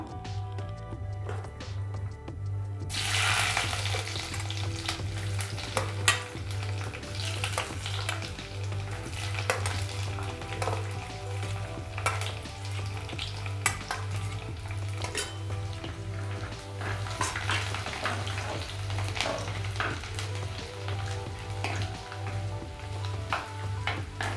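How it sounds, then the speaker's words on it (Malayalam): Chopped ginger and garlic fry with fenugreek in hot oil, a steady sizzle running throughout with frequent metal pan and utensil clatter, over a constant low hum, no talking. "നമുക്ക് ഇഞ്ചി വെളുത്തുള്ളി അരിഞ്ഞതിട്ട് കൊടുക്കാം."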